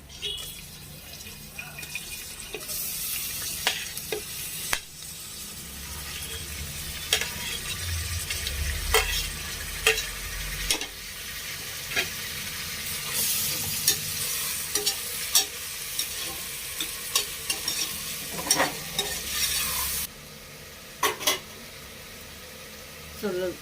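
Ginger garlic paste and chopped tomatoes fry and sizzle in a pan under a constant hiss, with repeated scraping stirs and clinks of a spoon against metal, close by, with some low background noise.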